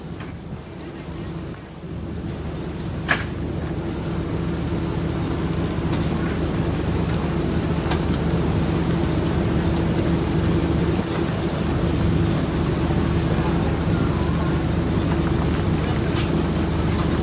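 A heavy Thai rainstorm with thunder pours down as a steady, close roar of rain and wind. One sharp thunder crack comes early, and faint rumbles sit under the constant downpour.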